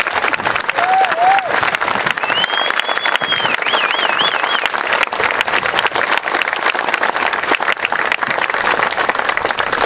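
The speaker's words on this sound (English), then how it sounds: "please join me in a round of applause for our drill instructors and their families" A large crowd applauds drill instructors and their families at a Marine recruit graduation, steady dense outdoor clapping with a couple of whistles rising over it.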